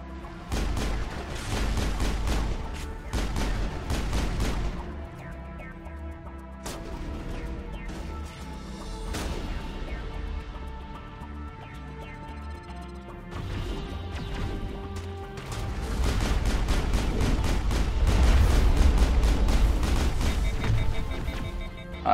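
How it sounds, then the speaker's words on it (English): Pistol fire in Mass Effect, sharp cracking shots in irregular bursts, with clusters at the start and a denser, louder stretch near the end and quieter gaps between. "Look at me out here sniping them with a pistol."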